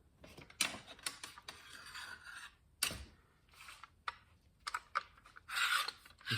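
A long clamp is tightened onto an acoustic guitar body in a workshop to pull the bout in, giving faint, close, irregular clicks and creaks in short bursts separated by near silence.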